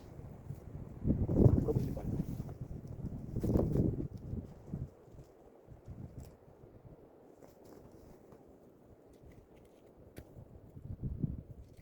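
Wind gusts in the Carpathian mountains roar against the microphone in rough, rumbling waves, swelling twice strongly early on, then easing to a lower buffeting with another surge at the end.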